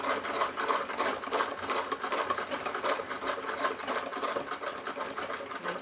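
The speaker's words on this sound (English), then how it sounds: "Just gonna sew squiggles." A sewing machine stitches squiggly quilting lines through fabric, a fast, even, rattling needle run that stays steady and fairly quiet throughout with no talking.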